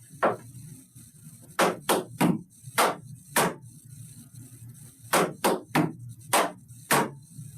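Sharp tap shoes strike a hard floor in quick, crisp clusters of clicks and scuffs, pausing briefly between rhythmic phrases, close and clear with no talking.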